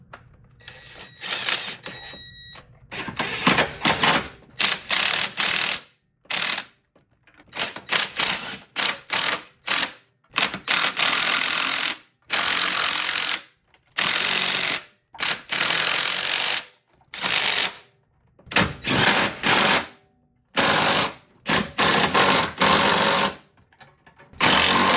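A hand ratchet snugs up the transmission mount bolts on a 2002–2006 Honda CR-V, sounding as rapid, loud clicking bursts separated by brief pauses as the handle is swung back and forth.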